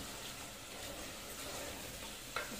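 Taro root (arbi) frying and being stirred in a pan for arbi salan, a faint steady sizzle with a brief scrape of the spoon near the end, no voices.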